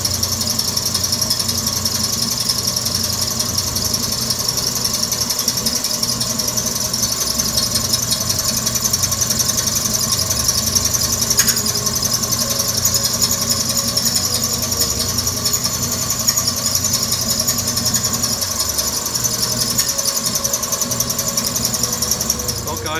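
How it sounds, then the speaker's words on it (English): Old Wayne 60 gas pump running after start-up: a loud, continuous mechanical drone with a steady rattling whir from its motor and belt drive, unbroken throughout and heard close up, with a voice talking over it. "I hope you enjoyed watching that Wayne 60 start up and run tonight."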